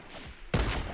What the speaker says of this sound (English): Is that a sniper?